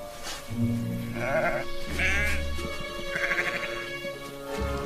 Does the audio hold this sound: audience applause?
no